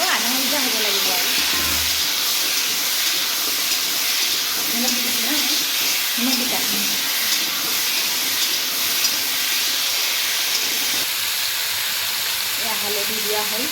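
Vegetables fry in a pan for a chicken khichdi made with local chicken, giving a continuous close steamy hiss, while a voice talks faintly underneath.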